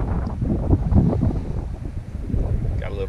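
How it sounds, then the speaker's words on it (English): Gusty morning wind rushes across the open water around a small boat during winter speckled trout fishing in Texas, loud and close, buffeting the microphone with uneven surges. "Windy morning out here."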